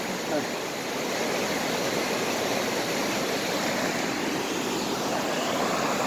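Loud, steady roar of rushing water pouring over the Jamsil underwater weir on a river, a continuous broadband wash with no pauses and no talking.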